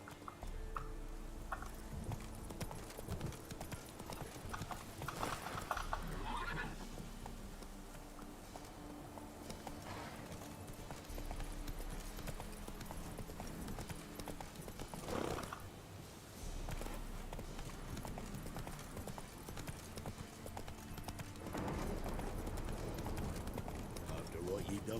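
Roach the horse's hooves clip-clop along in The Witcher 3, a steady walking rhythm running through the whole stretch beneath voices and background game music.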